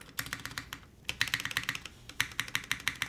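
Rapid typing on a computer keyboard with a flipped spacebar, close and clear, a steady stream of sharp clacking keystrokes with a brief pause near the start, no voices.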